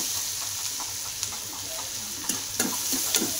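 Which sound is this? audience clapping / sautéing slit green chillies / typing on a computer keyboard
sautéing slit green chillies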